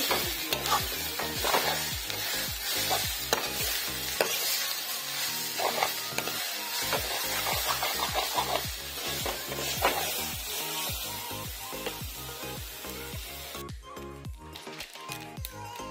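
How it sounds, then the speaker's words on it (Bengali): Rice and sweet pumpkin frying in ghee in a pan, a steady close sizzle broken by rhythmic scraping strokes of a spoon stirring the mixture throughout. "এখানে মিষ্টি কুমড়োটাও দিয়ে দিলাম, ঘিটা দিয়ে ভেজে নিব ঘিয়ের মধ্যে।"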